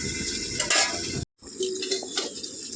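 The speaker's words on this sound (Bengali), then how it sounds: "তো থালাটা আমি এখন খুলে নিচ্ছি কড়ার থেকে" A metal plate used as a lid clatters as it is lifted off a kadai of cooking chicken, a short close clink and scrape followed by a brief gap, then light sizzling and faint clinks.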